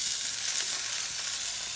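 Chopped garlic hitting hot oil in a pan while street-style veg chowmein is cooked, giving a steady, bright hiss of sizzling that holds evenly from start to finish with no voices.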